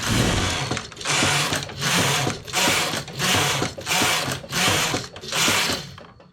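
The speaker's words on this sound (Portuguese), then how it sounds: "Faço 10 carreiras." A knitting machine carriage is pushed back and forth across double-rib rows, giving about eight evenly spaced rattling, whooshing passes, each with clicks, loud and close.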